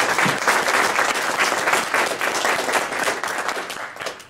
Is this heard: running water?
no